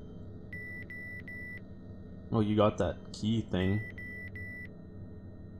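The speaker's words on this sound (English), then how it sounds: "Well, there's that beeping back." Repeated bursts of high electronic beeps from the Bioscopia video game play over a low background hum, with someone talking briefly in the middle between the beep groups.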